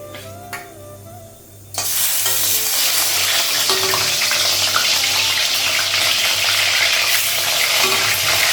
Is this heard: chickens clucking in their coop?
no